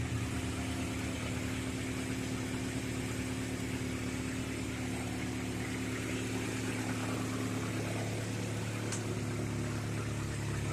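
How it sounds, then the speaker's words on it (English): A 1993 Honda Civic engine idles with an exhaust leak, a steady low rumble and hum running unbroken throughout, close by and without speech. "I do have an exhaust leak down there somewhere."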